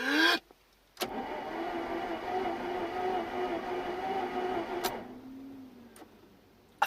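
A motorcycle engine on a project bike left standing for over two years, with old fuel, cranks over in one long steady churning run of about four seconds, starting abruptly and stopping, with a brief separate burst before it.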